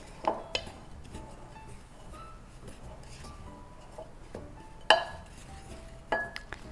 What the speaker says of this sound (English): And then I'm just going to give that a gentle stir.